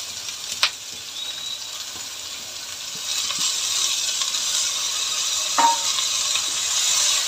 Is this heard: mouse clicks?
no